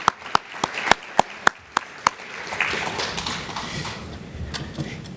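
An audience applauds a panel at a patient conference. One nearby pair of hands claps sharply in an even rhythm, then a softer spread of crowd clapping carries on.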